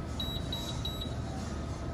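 Six short, evenly spaced high-pitched beeps from a refrigeration unit sensor over steady background hum, clear but not loud.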